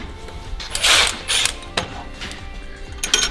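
A ratchet tightens a clamp-on exhaust hanger clamp on a 2019-2024 GM 6.6L truck, giving a few close bursts of quick clicking pawl ratcheting separated by brief pauses.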